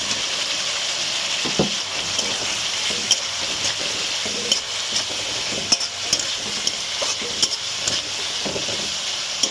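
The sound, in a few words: frying and stirring fried potatoes in spice masala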